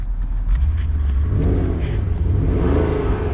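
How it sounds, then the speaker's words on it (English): A 2013 Porsche Panamera Turbo S revs through its adjustable exhaust, its low rumble climbing in pitch and loudness against a soft limiter, close and steady, with no talking. "It does have the adjustable exhaust, so you can make the exhaust louder or quieter."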